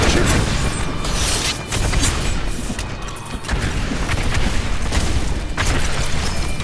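Grenade explosions in the video game Diablo III, hardcore mode, form a dense, continuous rumble of booming bursts and pops with no pauses, loud and close throughout.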